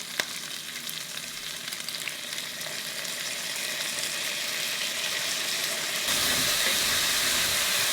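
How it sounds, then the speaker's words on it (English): Chopped bell pepper and minced garlic sauté in a pan for beef stew, a steady close frying sizzle and hiss that grows a little louder and brighter toward the end, with no talking. "We're gonna add our chopped bell pepper, and we're just going to saute this for a couple of minutes."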